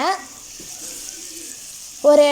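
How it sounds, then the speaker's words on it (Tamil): Chicken pieces frying in hot oil in a pan, a steady soft sizzle running through most of the clip, with a louder burst of clatter or stirring near the end. "அந்த சிக்கனெல்லாம் ஒன்று ஒன்றா போட்டு பொரிங்க"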